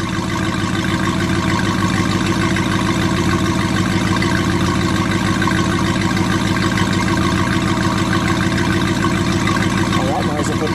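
A loud 1965 Oldsmobile Cutlass 442 engine idles steadily with a rough, even chug throughout, close by and unbroken.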